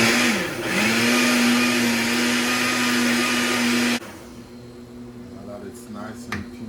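A blender whirs loudly and steadily, pureeing mushy cooked beans, then switches off abruptly after about four seconds, leaving quieter room noise; a person talks over the running machine.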